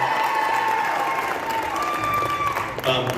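Audience at a high school show choir cabaret applauding and cheering for the backing band, steady clapping and crowd noise with tonal sounds lingering underneath and a brief voice toward the end.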